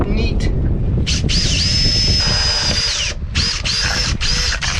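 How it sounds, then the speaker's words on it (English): A power drill with a hole saw whines loudly up close, running in several bursts as it bores through wood on a wooden boat, with a low rumbling undertone. "But I can drill through from the far side, and that should make it pretty neat."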